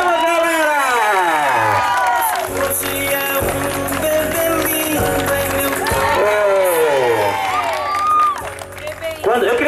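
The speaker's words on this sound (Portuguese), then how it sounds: "Uma salva de palmas, galera!" A party crowd with children cheers and claps loudly, with whoops and shouting voices layered over continuous applause throughout.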